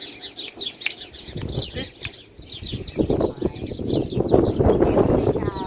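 Small birds flutter and flap their wings at a feeder in a German village garden, with chirps and bird calls throughout and a person talking nearby.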